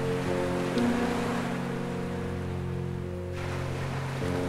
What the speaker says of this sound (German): jedes Mal dann, wenn die Wellen kommen und wieder gehen